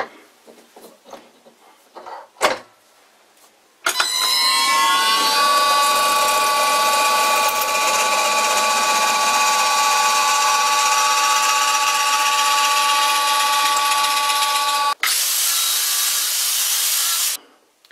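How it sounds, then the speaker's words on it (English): A power drill with a 12 millimeter bit drills a hole in an old hacksaw blade, running steadily for about eleven seconds with a high whining tone after brief handling clatter, then cuts off and a short harsher burst follows. "So I guess I will use that 12 millimeter drill."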